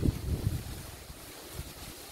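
Strong wind roars and buffets through a palm grove thick with fallen coconuts, steady and close with gusty low rumbling against the microphone.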